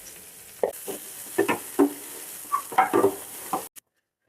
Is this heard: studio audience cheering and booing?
no